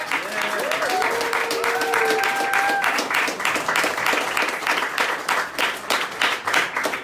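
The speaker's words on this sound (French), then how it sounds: "je pense qu'on peut les donner des applaudissements" Audience applause fills the room at an election-night gathering for a Quebec Green Party event, a steady dense wash of many hands clapping lasting several seconds, with a few faint voices calling out over it.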